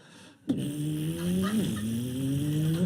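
A voice imitating a British race car, a single sustained engine-like drone with a wavering pitch and a brief squeal-like bend in the middle, close and fairly loud for about two and a half seconds.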